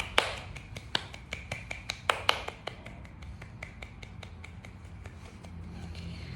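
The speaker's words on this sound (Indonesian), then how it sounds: "kita beri tepuk tangan untuk kita semua" A class claps hands together at the close of a school lesson, a quick irregular run of sharp claps that is densest early and thins into scattered claps, quiet and roomy with no talk.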